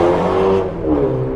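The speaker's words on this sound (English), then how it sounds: "He's got a very nice BMW" A BMW drives past near the Everton FC stadium site, a loud, close engine whoosh that rises and falls as it goes by, heard on its own.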